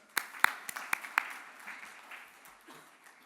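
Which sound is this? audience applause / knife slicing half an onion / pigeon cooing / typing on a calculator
audience applause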